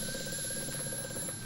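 A telephone rings steadily in the horror game Amnesia: A Machine For Pigs, a sustained electric trill over a droning, mechanical background hum, continuous for the whole moment without speech.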